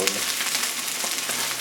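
Honey fungus (stump) mushrooms fry in a pan with a dense, continuous sizzle and small pops throughout, heard close and alone.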